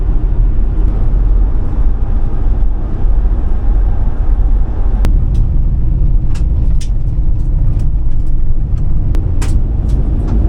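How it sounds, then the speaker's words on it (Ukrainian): A car travels at about 90 km/h down a crushed-stone gravel road in rural America, with a loud continuous roar of tires and engine and scattered sharp pings of stones striking the underside. "ґрунтова дорога висипана щебнем, але по ній їду 90 км на годину"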